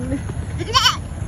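A single goat bleat, said to sound like a dog, rises loud and close in a short wavering cry over low background noise, with a brief vocal sound just before.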